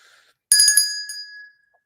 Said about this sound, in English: Ring the bell for my man.